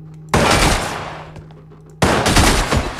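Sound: gunshots in video game Receiver

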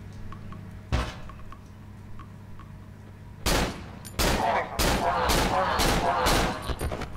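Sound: gunshots from the video game Cry of Fear

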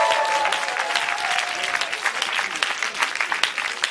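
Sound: audience applause

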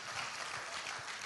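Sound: audience clapping in church

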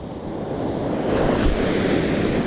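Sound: sea waves breaking on the shore

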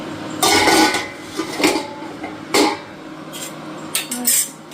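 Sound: plate being taken out and handled

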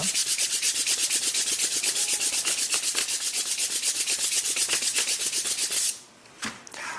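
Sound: sanding wood with sandpaper

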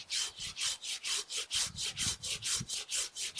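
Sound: Samurai GKC-300-LH garden pruning saw cutting willow

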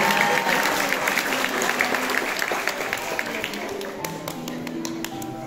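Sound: audience applause at a waltz celebration

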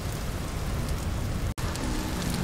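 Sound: rain of a light temporal storm in video game Vintage Story

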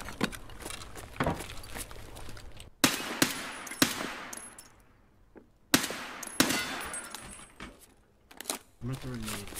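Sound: gunfire in Escape From Tarkov video game

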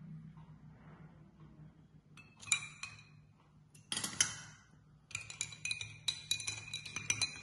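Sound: ice cubes clinking in a glass of passion fruit juice

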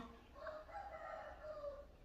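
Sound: chicken clucking

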